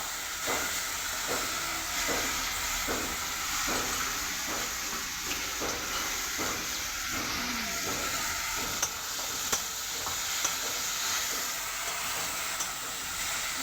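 Potatoes fry in a spice mix in a pan for a dhokar dalna, sizzling and hissing steadily while a spoon stirs in regular scraping strokes, moderately quiet and without speech.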